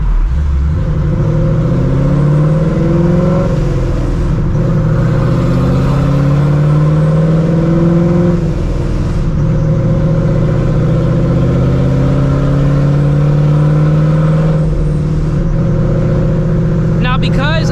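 A Procharged 2V Ford Mustang GT with its exhaust cutouts open revs hard, the loud, close exhaust rising and falling through several throttle blips, with the supercharger whine climbing in pitch.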